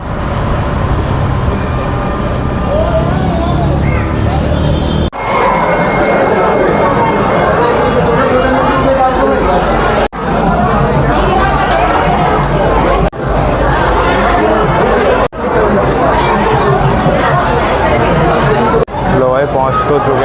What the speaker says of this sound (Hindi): भीड़ ज़्यादा, पीछे आवाज़ ज़्यादा हो रही है